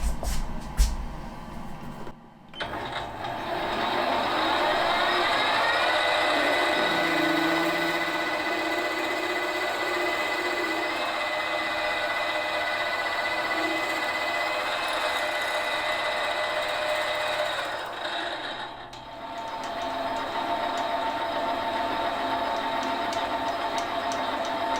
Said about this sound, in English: I'm holding the disc in this 3-jaw chuck using the external jaws. I'm going to drill and ream to 5/16.